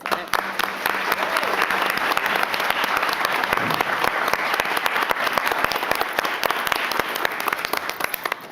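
Prolonged audience applause at a school board meeting, steady dense clapping with sharp individual claps standing out, close and continuous with faint voices underneath.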